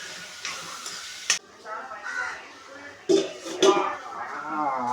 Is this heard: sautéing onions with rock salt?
yes